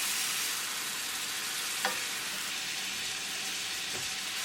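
Salmon frying in a pan over medium gas, giving a steady, close sizzle that holds constant throughout, with a couple of faint clinks.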